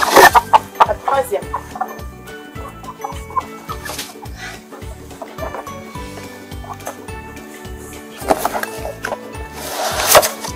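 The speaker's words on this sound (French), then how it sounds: "la quatrième poule est là" Backyard hens cluck and murmur close by in their coop, soft repeated calls with occasional wooden knocks and rustling, and a voice joining in now and then.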